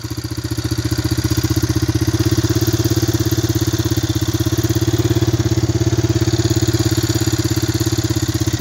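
A Big Red engine idles after a shot of starting fluid, a loud, close, steady rapid putter with a rhythmic mechanical chug that keeps running without dying.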